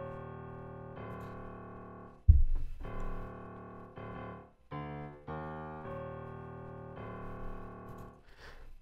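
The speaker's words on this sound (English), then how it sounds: "Some pianos." Piano chords in an FL Studio beat play in steady sustained blocks, changing about every second, with a brief low thump near the middle and no voices over them.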